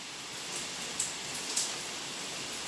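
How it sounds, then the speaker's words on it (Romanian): Steady rain falls as a continuous, even hiss with a couple of faint drip-like taps and no voices. "Uai, ce fain plouă, auziți cum plouă?"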